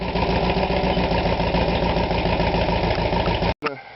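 A big sand rail's engine idles loud and close with a steady, even throb, cutting out abruptly near the end.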